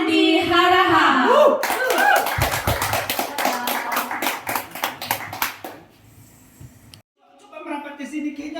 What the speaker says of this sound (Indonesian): Kita kasih aplaus dulu sama host kita, yaitu Bapak Pendeta Andi Haraha.